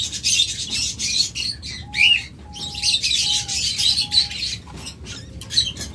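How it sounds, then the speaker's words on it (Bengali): A pair of rainbow lorikeets chirps in a bird shop, with busy bright chatter running throughout and a short series of clear whistled notes in the middle, close and fairly loud. "তারপরে এখানে রয়েছে আরেকটা রেইনবো জোড়া,"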